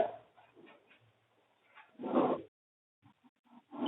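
A puppy whimpering and giving small yelps in a room, faint and intermittent, with a louder burst in the middle and a few short cries near the end.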